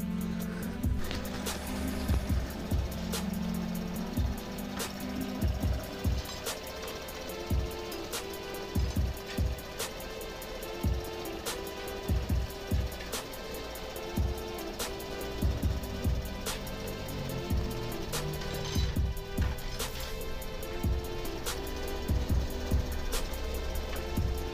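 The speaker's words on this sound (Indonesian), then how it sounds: "kita ke mesin lagi guys, kita pasang ban di velgnya" In a tyre workshop, a tyre changer mounts a 195/50/16 tyre onto a 16-inch, 7-inch-wide Spoon rim for a Toyota Vios, with a steady motor hum and repeated sharp metallic clunks and knocks throughout.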